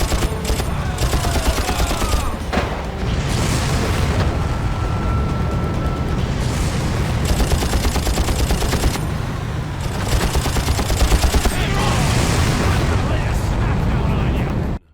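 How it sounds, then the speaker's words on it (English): Machine guns and rockets firing in the original Far Cry, a loud chaotic barrage of rapid bursts and booming blasts during a beach drive, sustained throughout with brief dips between volleys. "Driving full speed down the beach with machine guns and rockets, flattening everything in my path."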